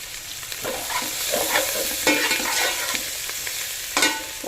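Tomatoes for keema gongura biryani fry in a pan with a steady close sizzle, punctuated by scraping stirs and a few sharper clinks, no voices.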